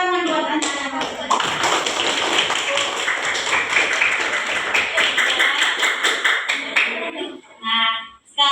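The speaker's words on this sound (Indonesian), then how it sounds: "Tepuk tangan buat anak-anak." A class of fifth-grade children claps together in a classroom, a lively run of close, uneven hand claps and taps lasting several seconds, with a voice speaking over it at the start and a short stretch of talking after the clapping stops.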